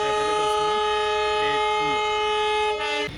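Vasco da Gama Express train running, a steady loud rumble of wheels and carriage with sustained tonal horn-like hum throughout, heard from on board.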